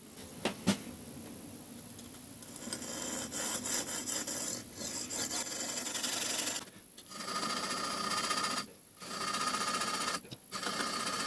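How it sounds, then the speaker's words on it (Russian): Bow saw fitted with diamond-coated wire cutting a tungsten carbide plate, its surface wetted with water; a steady, close rasping grind runs almost continuously, broken by a few short pauses between strokes. "Резать я его буду обычной проволокой с алмазным напылением на лучковой вот такой пиле."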